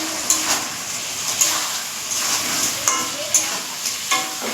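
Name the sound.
crabs frying in a pan over raised gas flame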